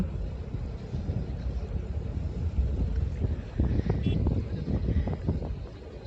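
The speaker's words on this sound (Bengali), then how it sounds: "ঝিরিঝিরি বাতাস পানি স্রোত সব মিলিয়ে পানিকে দেখুন কিভাবে একটি ঢেউ ঢেউ ঢেউ ঢেউ রূপ দিয়েছে" Steady wind rushing over moving river water near a boat, a low broadband rumble with gentle surging, continuous and fairly loud throughout, with no talking.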